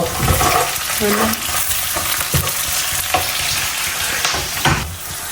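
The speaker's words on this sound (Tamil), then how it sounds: "இப்போ தான் கனவாக வதங்கப்பட போகிறேன்" Squid pieces sizzle and crackle in a hot pan as they are stirred with onion and green chilli for a Jaffna-style coconut milk curry, a steady close frying hiss with occasional utensil scrapes and no talking.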